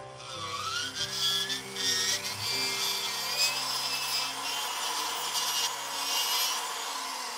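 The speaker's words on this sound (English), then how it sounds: "I'm going to take a burr, and I'm going to take this roughness off" A burr grinds roughness off jewelry metal at a workbench, making a faint, continuous scraping and whirring rub with shifting pitch over several seconds.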